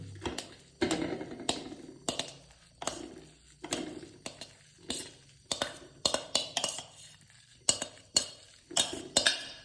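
A spoon clinks and scrapes against a bowl in a quick, uneven rhythm of close, sharp knocks as soya for cutlets is stirred together.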